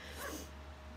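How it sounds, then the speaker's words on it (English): A dog barks outside, one short muffled bark from a distance against a steady low hum indoors. "my dog is outside barking"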